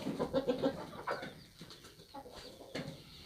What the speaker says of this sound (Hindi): तो ये लंबा और स्मार्ट मुर्गा है।